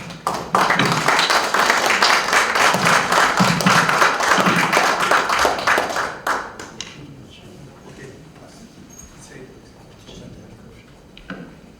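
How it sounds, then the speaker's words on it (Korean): Audience applause fills a Christian worship service and national prayer meeting at the Korea Christian Building as a pastor is welcomed to the pulpit; loud, dense clapping for about six seconds, then quickly dies to a quiet room with a few stray claps. "나오실 때 박수로 환영하겠습니다."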